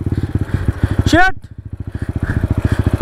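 A motorcycle engine putters with rapid rhythmic pulses, briefly revving higher before dropping back to a rough idle, with a short spoken word over it.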